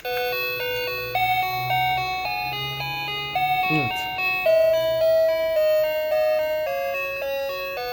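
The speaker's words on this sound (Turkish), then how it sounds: "Şunu zil seslerini öncelikle inceleyelim. Tuşa basıyoruz." Wireless remote-controlled doorbell chime tones play a series of clear, melodic ding-dong notes in sequence, fairly loud and close, with a voice speaking briefly underneath.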